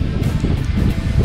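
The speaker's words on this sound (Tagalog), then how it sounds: "Kaya lakas ng hangin." Steady, heavy wind buffeting the microphone at a campsite, a constant low rumbling roar with no pauses throughout.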